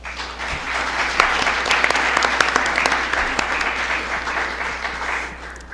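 An audience applauds steadily at a book presentation at UAM Iztapalapa, a dense wash of clapping holding at even strength for several seconds with a few sharper individual claps standing out.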